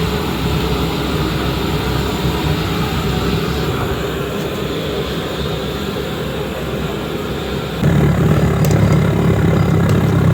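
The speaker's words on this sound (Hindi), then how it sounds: "वो आवाज़ जनरेटर की आ रही है।" A steady, loud generator drone runs throughout, humming nearby, growing slightly louder near the end with faint clinks on top.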